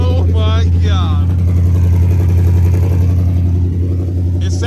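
A car with custom race dump exhausts rumbles loudly at close range, a deep, throaty, pulsing engine note that swells slightly as it revs, with a voice speaking briefly over it at the start and end.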